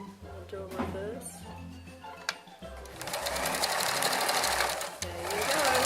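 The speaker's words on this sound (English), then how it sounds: "I will just show you some straight stitching. I'll do a reverse." A sewing machine runs a straight stitch, then reverses, its steady mechanical whir and rapid needle clatter close and loud, building into a continuous drone over about six seconds with a brief pause partway through.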